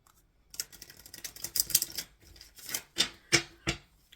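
Tarot cards are shuffled close up, giving crisp papery riffles and flicks in irregular bursts, with several sharper snaps near the end.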